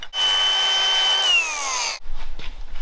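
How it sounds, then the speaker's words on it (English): A power grinder working metal during a truck axle installation, one loud sustained whine that drops in pitch as it winds down, followed by a brief rumbling handling noise. "Grind that, hurry."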